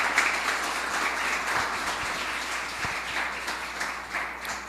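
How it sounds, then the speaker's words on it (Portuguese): A church congregation applauds during an evening evangelical service, a dense, steady wash of clapping from many hands with a few sharper claps, sustained throughout at moderate volume. "Você pode aplaudir ao Senhor nessa noite, em nome de Jesus"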